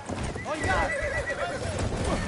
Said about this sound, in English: cover our infantry with the horse.